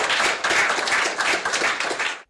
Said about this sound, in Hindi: लाट सिंह राजपूत राजगढ़ से हमारे साथ उपस्थित, एक बार जोरदार तालियों से मंच पर स्वागत करती हूँ।